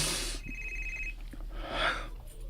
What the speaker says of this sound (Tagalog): May nanawag na sa ibang cellphone, sir.